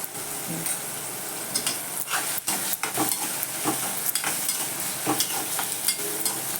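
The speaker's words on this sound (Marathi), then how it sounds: "टॉमॅटो पण जरा चांगला परतून द्यायचा हळद मसाला टाकायचा" Tomato with turmeric and masala sautés in a pan, giving a steady close sizzle broken by repeated spatula scrapes and taps as the mixture is stirred.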